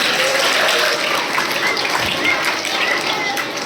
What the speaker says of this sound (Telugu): claps to her